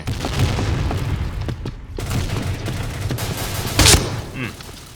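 Dense, sustained gunfire rattles in Point Blank, with rapid automatic bursts and a louder blast near the end, while a player speaks over the shooting.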